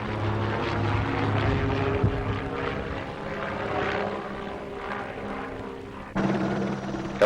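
A helicopter used for transporting firefighters hovers nearby, a steady whirring rotor and engine drone with a throbbing low pulse, shifting slightly near the end.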